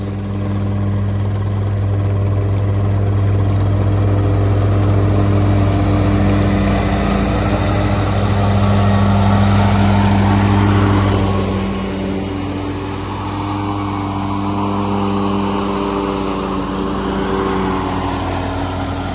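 A ride-on lawn mower runs continuously while mowing lawns on a hilly yard, its loud, steady engine drone close by with a slight dip in pitch partway through, and no talk over it.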